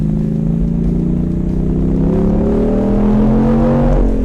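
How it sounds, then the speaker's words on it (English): A BMW 135 plays a borrowed BMW M4 engine sound through its speakers, a loud, steady engine drone whose pitch climbs gradually as if revving, then cuts off abruptly. "A BMW 135 owner ripped off the M4 soundtrack to make his car sound like a beast."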